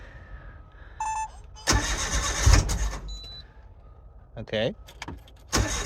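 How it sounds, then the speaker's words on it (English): An Autozam AZ-1 kei car fitted with a Keisport ECU cranks and fires up, with loud bursts of starter whine and engine catching, separated by quieter gaps and a chime, close by, with a brief spoken word. "Haven't started the car. Let's see how the Keisport runs"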